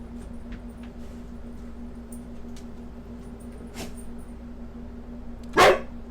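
A single sharp dog bark near the end, fairly close and loud, after several seconds of quiet room hum with faint ticks and knocks.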